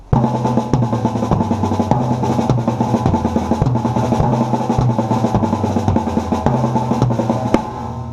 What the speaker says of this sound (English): a 5adiddle will sound something like this.